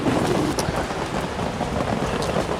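Steady rain falls outdoors in Spain, pattering densely on surfaces and on a camera bag's rain cover, a continuous close hiss with occasional sharper drops and no talking.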